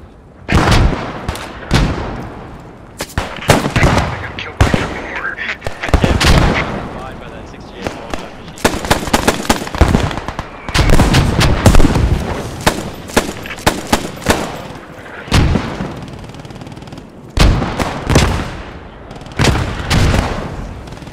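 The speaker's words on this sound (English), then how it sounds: "This is a 68 qualified machine gun." Bren machine gun firing in repeated loud bursts of rapid shots during a final assault, with sharp cracks and booming reports spread across the scene and brief pauses between bursts, with voices faintly audible in the gaps.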